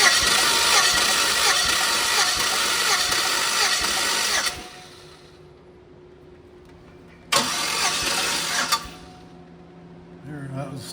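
A 2006 Chevrolet Silverado engine with a rattling fault runs loud and close, cuts off, then cranks back up briefly before dropping to a quiet idle-like hum, with voices talking over parts of it.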